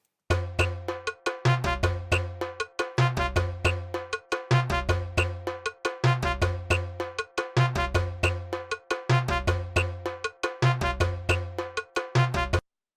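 Layered percussion samples in a beat, including a whistle and cowbell-like hits, play together in a loud, steady, repeating groove with no voices.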